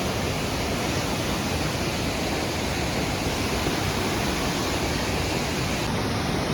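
A waterfall at Netarhat roars with a steady, dense wash of rushing water that sounds close and loud and stays unbroken throughout, with no voices.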